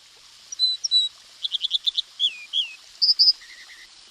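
An American Dipper, once called the water ouzel, sings in spring in Central Oregon: a clear, close run of high whistles, quick trills and repeated chirps, slurred notes in varied bursts with no talking.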